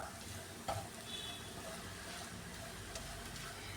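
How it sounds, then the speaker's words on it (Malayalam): Ivy gourd stir-fry with crushed coconut is stirred in a pan, a faint sizzle running under soft scraping and a sharp utensil knock early on. "ഇതെല്ലാം കൂടെ നന്നായിട്ടൊന്ന് മിക്സ് ചെയ്യാം"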